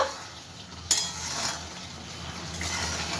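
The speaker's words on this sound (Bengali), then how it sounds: "সেই ধনে পাতাটা দিয়ে দেবো সম্পূর্ণ ভালো করে সব একটু মিশিয়ে নেব" Chopped coriander leaves being stirred into a mushroom masala in a pan, giving a soft continuous sizzle with one sharp utensil clink and gentle scraping, close up and without speech.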